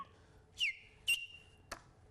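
Three short, faint whistle tones, the first sliding downward, the second held steady, the third a brief blip, in a quiet room.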